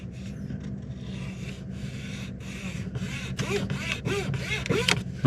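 Fingertips rub and scrape across textured accent trim inside a 2022 GMC Sierra 1500 Denali Ultimate cabin, a close, dry rasping that grows in short repeated strokes, with brief breathy sounds nearby.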